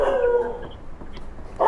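Dogs bark and howl outdoors at midnight on a street during a food delivery run in India, a loud, close, sustained howl that fades and then rises again.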